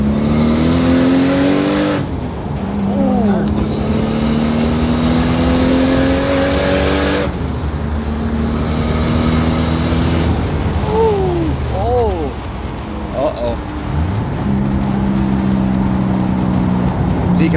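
Nissan Skyline R33 turbo car pulling hard on the road, engine note sweeping up through gears with turbo flutter on each shift, loud and close inside the cabin while people talk and exclaim over it.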